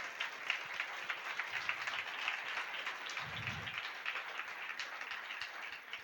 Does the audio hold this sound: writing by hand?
no